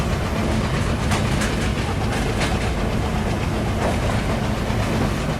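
The Kapotaksha Express locomotive and its carriages rumble along the rails near Bheramara station, a loud, steady, close roar with faint rhythmic clacks throughout and no talk.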